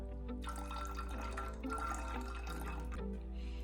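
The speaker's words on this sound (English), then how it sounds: "So I'll just transfer it to my spray bottle." Rice water pours from a container into a spray bottle, a close, steady liquid gurgle and trickle with faint hum underneath and no voices.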